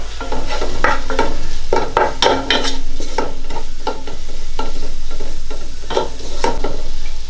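Beef curry with softened tomato stirred in a pot, a series of scraping, squelching strokes at an irregular rhythm over a steady low hum and faint sizzle, close and fairly loud.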